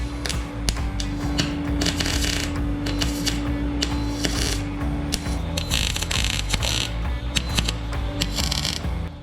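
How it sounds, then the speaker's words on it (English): A sill is welded on a Ford Landau Coupe hardtop, producing a continuous crackling buzz broken by sharp clicks and pops at irregular intervals, close and steady. "Now it's time to weld it all around fully."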